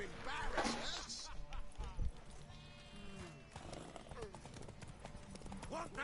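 Horse hooves clip-clop in The Witcher 3, a steady rhythmic trot mixed with game music and effects while a voice talks over much of it.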